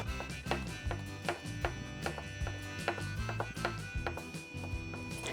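Fresh thyme and rosemary chopped with a knife on a cutting board, a steady run of sharp, close knife taps in quick rhythm, with no talking.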